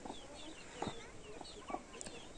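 Village hens with chicks cluck and peep softly outdoors by a stream, short scattered calls rising over low background noise, faint and fairly distant.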